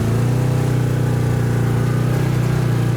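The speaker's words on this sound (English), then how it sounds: "951cc engine, naturally aspirated, no turbo." A 951cc naturally aspirated engine with no turbo runs steadily, a loud continuous mid-pitched drone at even speed close by, with no speech.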